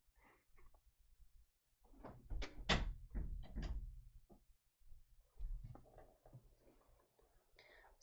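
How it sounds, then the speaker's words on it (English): An indoor door is pushed shut, with a cluster of knocks and clattering thuds over a couple of seconds, then lighter handling noises after a short pause. It is close and moderately loud, with no talk. "I'm gonna close my door."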